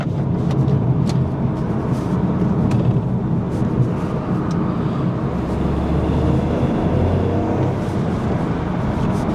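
Toyota GR Yaris hot hatchback engine running steadily, a continuous loud broadband drone with low rumble that holds throughout, no speech over it.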